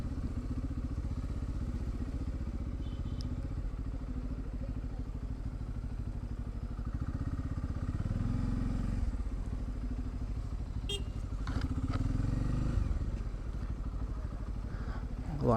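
A motorbike engine runs steadily at a low, even rumble while being ridden through a crowded street on the way to a Dahi Handi setup, with brief clatter and thumps near the end and a voice speaking over it.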